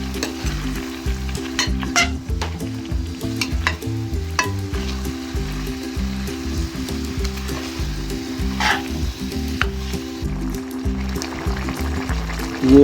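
Mashed potato is stirred and mixed in a hot pan. Close, rhythmic scraping and squelching strokes repeat over a continuous sizzle throughout.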